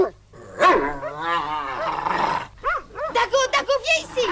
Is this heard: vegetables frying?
no